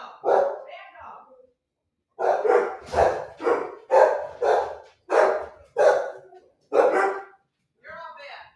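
A dog barks repeatedly in a home in the morning, a short pair of barks followed by a rapid run of about nine loud, evenly spaced barks and a softer final yelp, close to the listener.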